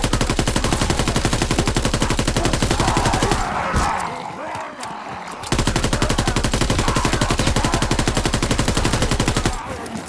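A GDB 79 assault rifle fires with no attachments in a WWII shooter, in long, loud, rapid automatic bursts broken by a brief pause midway before the steady full-auto fire resumes.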